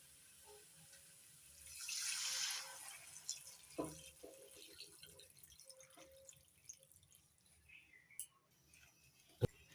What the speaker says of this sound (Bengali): এবার দিয়ে দিচ্ছি গরম জল